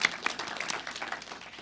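Soft crowd applause at a design speaker series event, greeting an award recipient from Fort Lewis College; a faint, even patter of many hands, somewhat distant and quiet.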